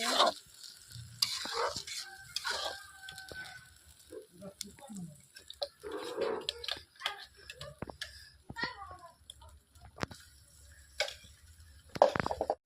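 Onion, ginger, garlic and spices fry in a pan with soft sizzling and repeated stirring scrapes. A voice speaks intermittently over the cooking.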